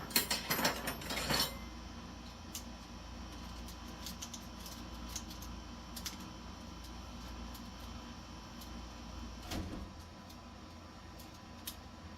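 A Remington 700 rifle bipod extension is tightened, a burst of close metallic clicking and ratcheting at the start, then faint scattered small mechanical ticks in a quiet room.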